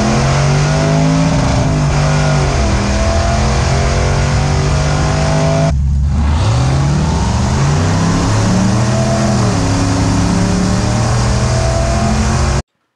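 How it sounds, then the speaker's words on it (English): Drag racing trucks launch with loud, continuous engine roar, one engine bouncing off the rev limiter in a steady flat drone before a brief cut near the middle, then revs climb again in rising sweeps; no talking. "you'll hear in these passes how basically leave, and then mine bounce off the limiter, but his shifts at a much lower RPM"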